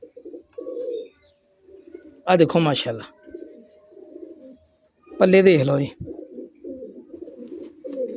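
Faisalabadi Rifat Shah pigeons coo in steady low bursts, close and clear, while someone talks over them twice in short loud stretches.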